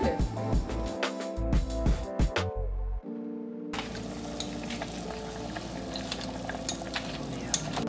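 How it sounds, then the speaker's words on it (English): Lentils cooking in a pot of water give off a steady bubbling, sizzling wash close by. The first few seconds are choppy with clatter and brief cuts, then it settles into an even simmer with no talking. "we're going to go ahead and cook our lentils for 20 to 25 minutes or until they are tender"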